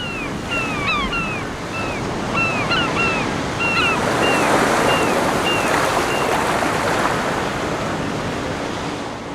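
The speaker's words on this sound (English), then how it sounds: "The sea sounds different every day." Surf breaks steadily on the German Baltic coast, a loud continuous roar of waves with wind noise, while several birds call repeatedly over it in the first half.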